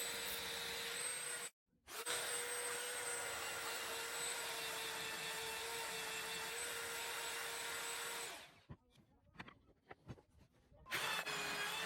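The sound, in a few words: sander smoothing pallet wood laptop stands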